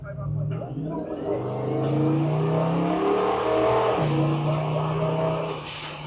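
A 1967 twin-turbo Ford F100 truck lapping a track at the Lone Star Nationals, its engine droning and shifting pitch as it accelerates and eases off, steady and close throughout, with voices talking over it.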